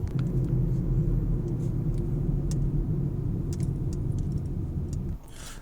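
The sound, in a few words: car driving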